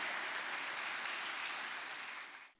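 Steady applause from an audience at a Tamil school debate competition finale in Malaysia, dense clapping held evenly throughout before cutting off abruptly at the end.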